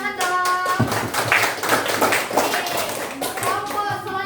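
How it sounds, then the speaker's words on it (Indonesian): Classroom audience of primary school students and teachers clapping hands during a class presentation, a dense burst of close handclaps over a few seconds mixed with children's voices and speech. "Tepuk tangan dong"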